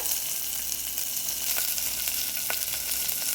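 Ginger, garlic and green chilli sizzle in a hot pan, a dense crackle close up with a few sharp spits and light stirring.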